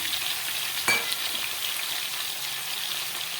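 Fish, potato and eggplant fry together in a kadai, giving a steady, moderately quiet hiss of hot oil with one brief sharp crackle near the start.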